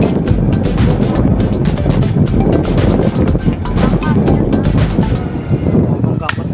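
A boat motor runs steadily near a bridge in Paracale, a loud continuous rumbling drone with wind noise buffeting the microphone throughout.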